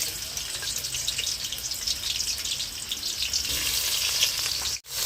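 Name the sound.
onions frying in hot oil in a pan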